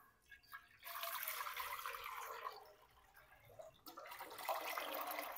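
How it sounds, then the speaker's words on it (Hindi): Water poured into a cooking pot for homemade chicken soup: a faint, steady splashing stream that pauses briefly midway, then resumes, with no talk. "तो सबसे पहले इस पतीली में मैं पानी डाल दूंगा।"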